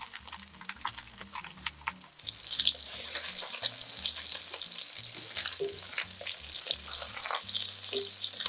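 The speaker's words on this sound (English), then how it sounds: "Fry them one by one." Food pieces fry one at a time in hot cooking oil in a pan for a Korean-style lunch box, with a steady bright sizzle and crackle throughout, plus occasional clicks and taps from utensils close by.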